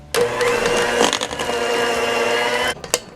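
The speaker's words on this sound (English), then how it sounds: "I'm going to blend this up, and I'm using my KitchenAid handheld mixer." A KitchenAid handheld mixer whirs steadily as it blends a peanut butter mixture, a loud continuous motor drone lasting a few seconds before stopping, followed by a brief clack.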